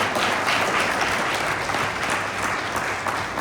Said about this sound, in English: could we all give him a round of applause